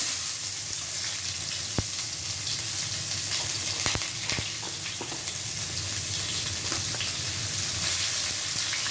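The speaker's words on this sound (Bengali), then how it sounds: "তেল দিয়ে দিলাম এখন পেঁয়াজ দিয়ে দিব" Onions sizzle steadily in hot mustard oil in a home kitchen pan, a continuous close frying hiss broken by a few sharp clinks of a utensil, with no talking.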